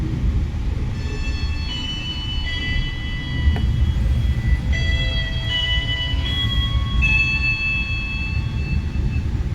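The Tegal Bahari passenger train rolls along steadily with a continuous low rumble, overlaid by squealing, whining metallic tones from the wheels and rails, heard from onboard.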